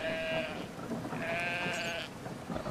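Two sheep in Brothers: A Tale of Two Sons bleat one after another, each a clear, wavering cry held for under a second, up close over a low ambient game backdrop.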